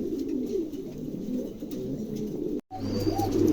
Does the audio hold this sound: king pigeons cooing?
yes